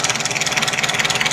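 A Mitsubishi Canter diesel engine idles after a fuel injection pump calibration, a steady, close, throbbing rumble with an even pulse and no voices.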